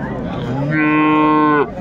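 A dairy cow lows once, close and loud, for about a second at the Raniganj cattle market in Dinajpur, over a steady background of market murmur.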